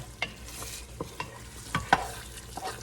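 Ground meat with onion being stirred in a pan for shepherd's pie, quiet sizzling beneath a series of irregular scraping and tapping strokes from a spoon against the pan.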